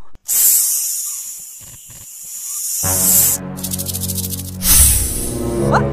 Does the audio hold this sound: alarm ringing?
no